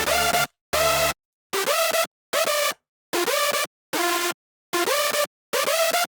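Hardstyle synth lead with an EQ low cut and boosted highs, playing eight evenly spaced, loud, bright notes with short gaps between them, the later notes sliding slightly in pitch.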